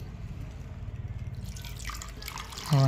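Water trickles and drips steadily into a bowl of cauliflower pakoda batter, close by, ending with a brief louder splash.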